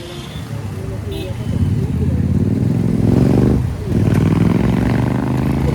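Motorcycle ride from Khopoli to Pune through road traffic, with loud continuous engine and wind roar up close, engine note rising and dipping briefly, other vehicles rumbling around and a faint horn-like tone early on.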